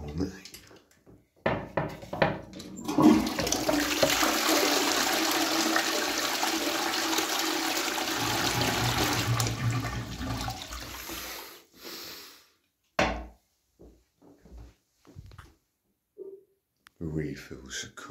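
Early-1990s household toilet flushing with a loud rushing gush of water that lasts several seconds, then tapers off into quieter cistern refilling, with people talking briefly in the gaps.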